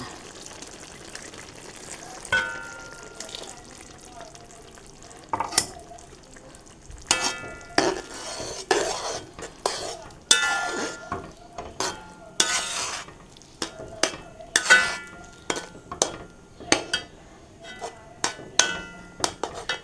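Ground coconut paste is stirred into frying onions for an onion theeyal curry: loud, repeated scraping and knocking strokes of a spoon against the pan ride over a continuous sizzle.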